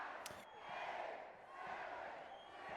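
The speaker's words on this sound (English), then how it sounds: "I hear the crowd" A distant esports arena crowd murmurs and swells steadily as a Vegas map loads, a dense, far-off roar with no cheering peaks.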